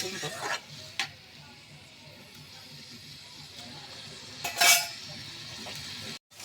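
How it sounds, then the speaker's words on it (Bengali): Cumin and chili powder spice paste being stirred and fried in oil in a pan, a steady low sizzle with occasional utensil scrapes and clinks against the metal, one sharper clatter near the end. "দেখো আমি সুন্দর করে কষিয়ে নিচ্ছি"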